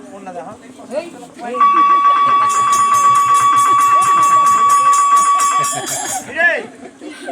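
A calling bell rings in a long, steady electronic buzz lasting about four seconds, loud and close, with voices talking before it and laughter after.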